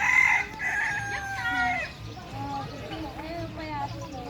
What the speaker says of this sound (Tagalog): Oh, ang dami ding mano.